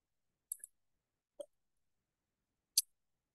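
A computer mouse clicks three times in a quiet room, sharp and close, with about a second between clicks and silence around them.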